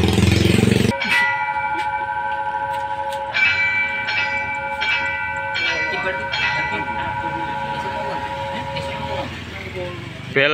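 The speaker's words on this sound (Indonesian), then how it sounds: "Bel genta JPL 59 sudah berbunyi teman-teman, pertanda kereta api sebentar lagi melintas di JPL 59." A railway level-crossing warning bell at crossing JPL 59 in Indonesia rings steadily in repeated, evenly spaced strokes, loud and close, over a background rumble of passing traffic, signalling an approaching train.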